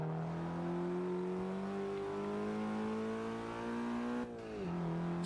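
A hatchback engine in Forza Motorsport 6 holds a loud, steady high-revving drone that climbs slowly, then dips briefly as revs drop near the end, with no talk over it.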